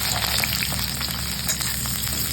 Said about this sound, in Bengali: এবার কাঁচকলাগুলো ভেজে নেব